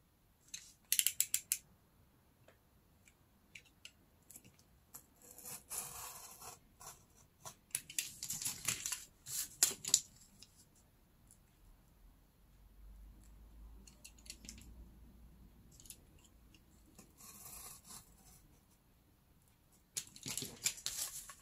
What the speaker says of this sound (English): Now I'm gonna take a ruler and I will cut always kind of like inside